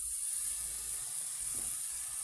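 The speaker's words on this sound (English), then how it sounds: "It's gonna cook for us our diced bacon, because bacon has its own oil" Diced bacon fries in butter in a pan, giving a steady, even hiss of sizzling fat that holds at moderate volume with no other sounds.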